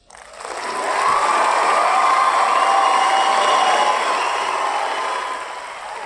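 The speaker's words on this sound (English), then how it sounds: "Okay, some cheering." A loud crowd cheering effect played live through a podcast studio app, swelling in quickly, holding steady for several seconds, then easing down slightly toward the end.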